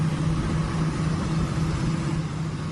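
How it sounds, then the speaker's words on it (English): A pair of John Deere tractors rumble steadily while towing a Russian Tor M2 air defense system, a continuous low engine drone with no pauses or voices throughout. "It's the sound of 2 John Deere tractors"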